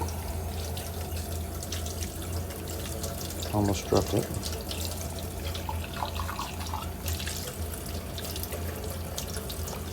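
Warm to hot tap water runs steadily into a sink while dishes are washed with soap, a continuous splashing stream with a brief clatter near the middle and a voice speaking over it.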